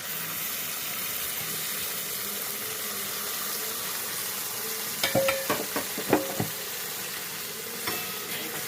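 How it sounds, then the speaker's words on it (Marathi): Coconut-based masala paste with triphala and coriander seeds sautés in oil for a Malvani prawn curry, a steady close sizzle with a series of scraping stirs of a spoon in the pan midway. "छान तेल सुटेपर्यंत मस्त मसाला परतून घ्यायचा आहे"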